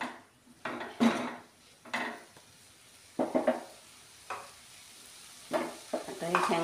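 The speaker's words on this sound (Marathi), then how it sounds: "याला व्यवस्थित परतून घेऊया. गॅस थोडं फास्ट करूया." Cauliflower sabzi is tossed in a pan over a raised flame, with a spatula scraping the metal in short, irregular strokes about once a second, close and clear over a faint background sizzle.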